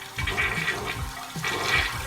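A very clean real toilet in a bathroom flushes loudly nearby, with two rushing surges of swirling water a little over a second apart and no talking.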